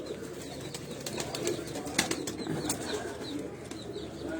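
Pigeons take off from a city rooftop in a brief rush of wing flapping and scattered bird calls, fairly close, with steady outdoor background noise and no talking.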